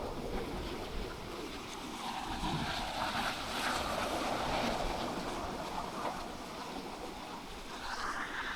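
Steady roar of ocean surf at the back beach on the Mornington Peninsula, a continuous wash of breaking waves mixed with wind buffeting the microphone, with no voices.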